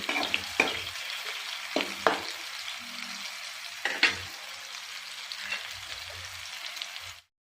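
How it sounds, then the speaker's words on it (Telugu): Onion and green chillies fry in hot oil with a steady close sizzle, broken by several sharp scrapes and clanks as the mixture is stirred in the pan, with no talking. "ఈ ఆయిల్లో ఈ ఆనియన్ను పచ్చిమిర్చి బాగా వేగాలండి."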